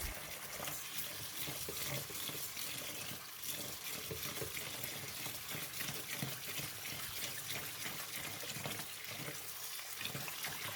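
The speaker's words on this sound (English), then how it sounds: "First, wash the rice 3 times." Steady splashing and sloshing of water as brown rice is washed in a bowl, continuous and fairly loud, with faint clinks, no voices.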